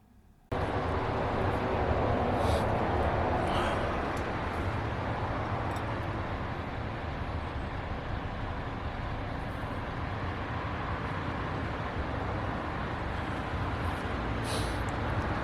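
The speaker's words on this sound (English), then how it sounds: "Sorry about the background noise. I live in the city. Trams, cars, everything." Steady city street noise with trams and cars, a loud, continuous broadband rumble of passing traffic heard from outdoors that rises abruptly and holds through, with no talk.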